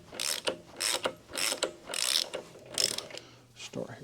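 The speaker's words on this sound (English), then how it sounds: "I'm going to use that wrench." A ratchet wrench clicks in repeated bursts while turning bolts on a vehicle suspension during an upgrade, about six quick, close ratcheting strokes with short pauses between them and no speech.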